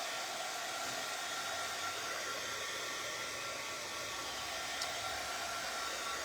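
Hair dryer blowing steadily to dry fresh paint on a wooden hutch, a constant even hiss-like airflow with no breaks, fairly quiet and alone.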